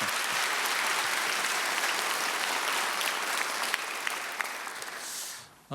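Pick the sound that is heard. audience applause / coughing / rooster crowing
audience applause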